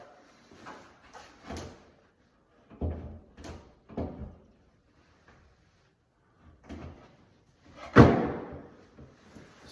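A newly installed shutter door is swung open and shut several times, giving soft thumps and knocks at irregular intervals, then one sharp louder slam near the end, with quiet pauses between.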